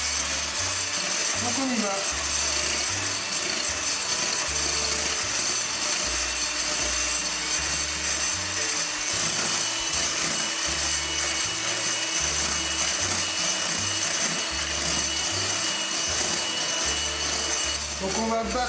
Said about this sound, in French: Donc on va battre les blancs en neige dans un premier temps.